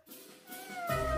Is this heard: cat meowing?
yes